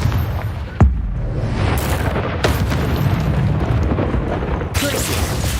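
Confringo explosive spell cast in the Hogwarts Legacy video game, a booming blast with rumbling low crackle and sharp bursts, heard amid continuous dense game action.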